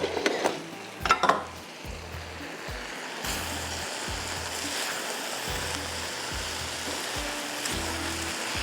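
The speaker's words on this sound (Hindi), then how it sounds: "इसको भी ज़रा 1 चम्मच चला लेते हैं वरना ये नीचे ना लग जाए" A spoon stirs palak qeema with methi as it cooks in a pot, giving soft scraping and sizzling sounds that run steadily under a low, rhythmic background hum throughout.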